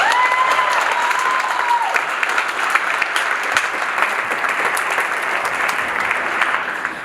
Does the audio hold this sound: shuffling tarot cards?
no